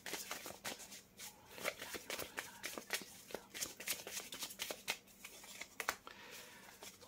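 Tarot cards shuffled by hand in a quiet room during a reading, a steady run of crisp riffling and snapping card noises close to the microphone, with no talk.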